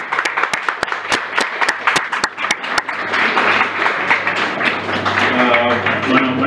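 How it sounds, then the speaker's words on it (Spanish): An audience at an evening tech talk on quality assurance and big data applauds, first with sparse separate claps and then a fuller, steady wash of clapping from a roomful of people. "les pido un aplauso, por favor, para presentar la bienvenida de hoy"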